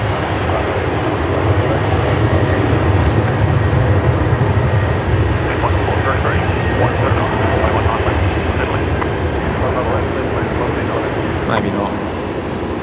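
A Jetstar airliner, flight 573, rolls at Brisbane Airport, a low, steady engine rumble at a distance holding for several seconds under outdoor background noise.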